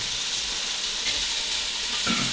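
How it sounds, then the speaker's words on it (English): Thick-cut bacon drops into a pan with a little olive oil and fries with a steady, bright sizzle and hiss, ending in a short sputter. "a nice thick cut bacon, and we're just going to drop this into our pan"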